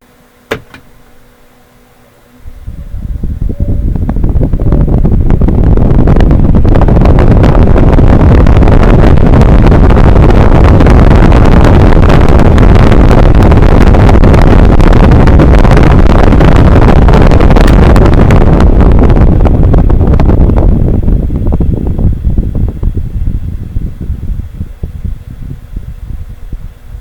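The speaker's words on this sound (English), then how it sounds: "turn it on for you and reveal the sound of the storm" A loud, roaring storm effect surges in after a quiet start, a sustained rush of wind-like noise that holds steady and then fades slightly.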